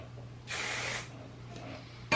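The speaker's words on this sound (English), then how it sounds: "I'll just spray it with some hairspray and let it sit" A short burst of hairspray from an aerosol can hisses for about half a second onto curled hair, followed by a fainter second puff against a quiet background.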